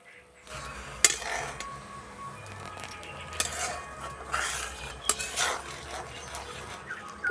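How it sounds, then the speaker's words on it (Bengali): A spoon stirs a thickening green mango candy mixture in a pot, with scattered scraping knocks against the metal at an uneven pace, up close and without talk. "এটাকে খুব হালকা আছে নাড়াচাড়া করে একটু গাঢ় গাঢ় করতে হবে"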